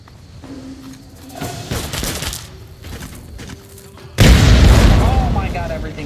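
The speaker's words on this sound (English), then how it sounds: "Oh my god, everything's exploding." Explosions and battle noise in Fallout played as the Tale of Two Wastelands mod, with rumbling booms and gunfire building to a big, loud blast near the end, under raised voices.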